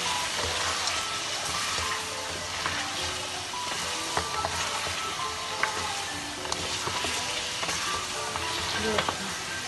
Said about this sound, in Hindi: ये अब इसका पानी खुश्क हो चला भून रहा है।